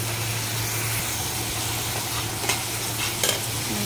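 A spice paste fries in oil for a Bangladeshi vegetable curry with ridge gourd, a loud continuous sizzle over a low steady hum, broken late by a couple of quick scraping stirs of a spatula in the pan.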